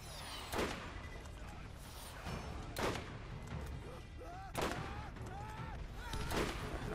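Rocket launcher blasts in a Borderlands fight: several sharp, loud bursts arrive at irregular intervals over continuous gunfire and background noise, with voices talking in between.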